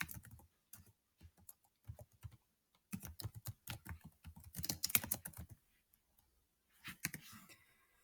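Someone types a citation on a computer keyboard with soft, quiet clicking keystrokes in irregular bursts, several quick runs of taps separated by short pauses, close and alone.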